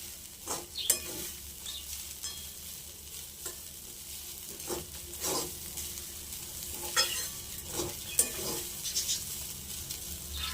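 Flattened rice poha with fried peanuts and raisins being stirred in a pan, a soft continuous sizzle broken by repeated scraping strokes of a spatula, close and fairly quiet, no talking.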